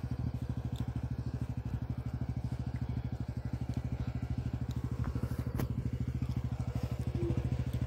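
Motorcycle engine idling nearby with a steady, rapid putter and light mechanical clatter, continuous and low-pitched.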